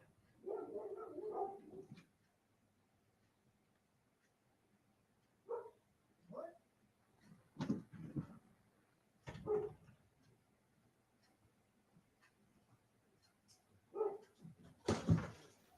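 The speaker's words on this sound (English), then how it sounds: "I got to let this dog out." A dog barks outside in short separate bursts, a few sharp barks and yips spread across a mostly quiet stretch, heard from a moderate distance with no talking.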